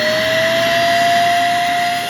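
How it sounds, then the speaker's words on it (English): A Pawaboo dog grooming kit's hair vacuum runs at strong suction, a steady close, loud whine with a sharp high tone that holds evenly throughout, with no talk. "the vacuum right here is suction, and if we want more, this thing goes really strong."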